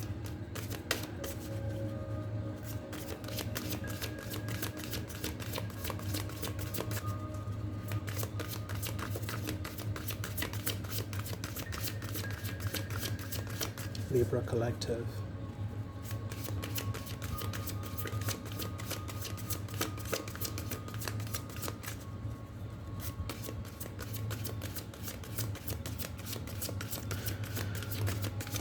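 Tarot cards being shuffled by hand, a steady run of soft riffling and flicking that carries on nearly throughout over a constant low background hum, with a brief spoken phrase.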